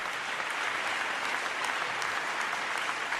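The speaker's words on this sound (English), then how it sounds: "It feels like applause for him, but also for the cause here." Delegates at a climate conference applaud in a dense, steady wash of clapping that holds at an even level throughout, with no voices.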